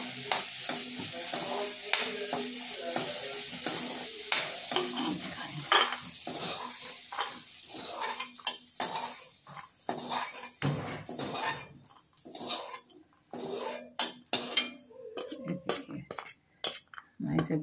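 Cooked chickpeas and poi leaf greens being scooped out of a pan with a utensil, giving repeated close scraping and clinking strokes over a soft sizzle, irregular and busier toward the end, with no talking.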